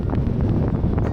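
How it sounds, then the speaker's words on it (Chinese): Strong winter wind drives snow pellets across open ground in Iceland. It makes a heavy, gusty roar that buffets the microphone close up for about a second, with no voices. "风太大了，夹杂着雪粒吹过来"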